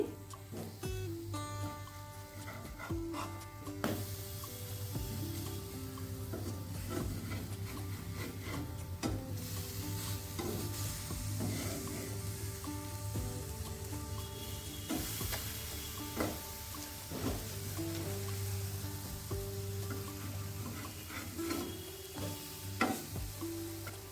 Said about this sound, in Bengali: এই পাশে আর এক মিনিট আমি একটু ভেজে নেব বেগুনগুলো পুরো ভাজা হয়ে গেছে